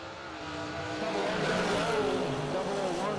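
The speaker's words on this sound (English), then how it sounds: "Ford Mustang left, Pontiac Firebird right." A Ford Mustang and a Pontiac Firebird drag racing at a Christmas bash event, with engines roaring loud and steady as they accelerate down the strip, a faint voice mixed in underneath.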